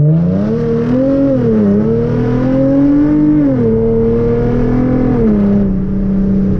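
A Hyundai Genesis Coupe fitted with downpipes, test pipes, a catback exhaust and an aftermarket intake revs hard in first gear. The engine note climbs steadily and loudly, dips briefly twice as it pulls, and no one speaks over it.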